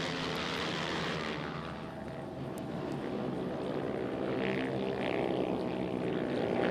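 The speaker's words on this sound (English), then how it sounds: "The riders on their warm-up lap at turn 5. All bikes are the TVS RR 310" Modified TVS RR 310 race motorcycles on a warm-up lap at turn 5 of an INMRC one-make expert race: a steady, blended engine drone that swells somewhat louder toward the end, with no voices.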